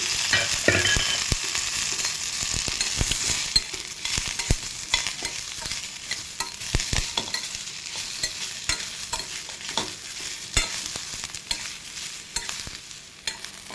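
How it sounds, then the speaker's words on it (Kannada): Spices and curry leaves sizzle and crackle steadily in hot oil for pani puri masala, with a constant frying hiss and frequent small pops and stirring scrapes throughout. "ಇದ್ರ ಜೊತೆಗೇ ಒಂದು ಸ್ವಲ್ಪ ಕರಿಬೇವನು ಕೂಡ ಹಾಕಿ ಕರಿಬೇವು ಇದ್ದೀನಿ ಒಂದು ಸ್ವಲ್ಪ ಆಯಿಲ್ ಹಾಕಿಬಿಟ್ಟು ಫ್ರೈ ಮಾಡ್ಕೊಳ್ಳಿ"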